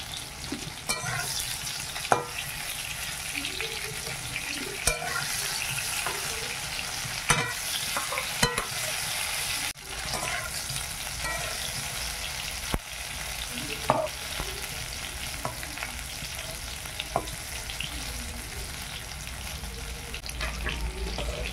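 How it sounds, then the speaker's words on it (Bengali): Cauliflower pieces sizzle steadily while frying in a pan, a continuous hiss punctuated by frequent sharp scrapes and knocks of stirring, fairly close and without talk. "ফুলকপিটা আর একটু ভাজবো আমি।"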